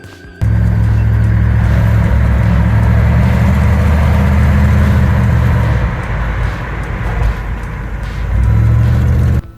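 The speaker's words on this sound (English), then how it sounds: "So this is just a really cool truck that we saw on the way home" A truck engine runs loud and close, a steady low rumbling drone that starts abruptly and holds with slight swells before cutting off.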